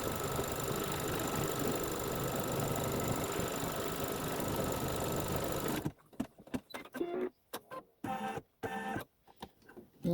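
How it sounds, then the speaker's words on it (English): A SweetPea embroidery machine stitching out background placement runs with a steady, dense mechanical whir and rapid needle chatter for several seconds, then stops, leaving faint intermittent clicks and bumps in a quiet room. "Now we will stitch out the placement for the background"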